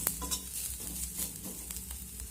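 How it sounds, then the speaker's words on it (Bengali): A spoon stirs a sizzling mixture of flat beans with turmeric and chaat masala in a frying pan, with soft scraping strokes over a constant close sizzle. "এবার সব কিছু আমি ভালো করে মিশিয়ে নেব"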